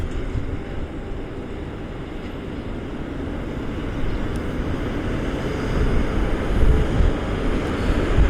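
A United airliner taxis at Cleveland airport, a steady, low jet rumble at a distance that gradually swells louder, with no speech over it.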